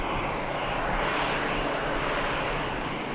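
An Airbus A380 jet taking off at Manchester Airport, a steady, loud, broad engine roar sustained throughout with no talk.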